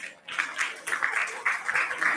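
A conference hall audience at a dental sciences event applauds, a moderate patter of clapping in uneven surges, heard from some distance.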